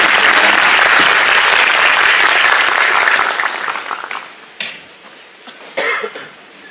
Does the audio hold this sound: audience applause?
yes